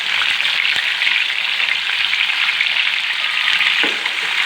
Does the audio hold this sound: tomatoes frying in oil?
yes